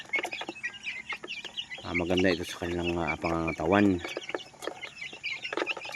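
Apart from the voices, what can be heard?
chickens clucking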